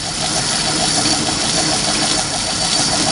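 An old metal lathe turning at 400 RPM while parting off metal, giving a steady, even mechanical hum with a faint regular pulsing throughout, loud and continuous with no voices.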